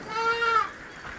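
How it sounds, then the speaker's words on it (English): A single goat bleats close by on a farm, a short wavering cry that fades out quickly. "The goats are making noise,"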